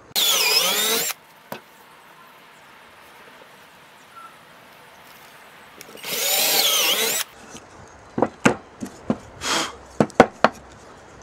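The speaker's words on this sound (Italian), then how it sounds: "andare a cercare il centro all'interno del foro e quindi forare" Two bursts of a power drill boring into pallet wood, each about a second long and separated by quiet, followed by several sharp knocks and clicks.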